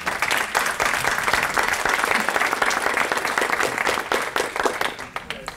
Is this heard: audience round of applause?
yes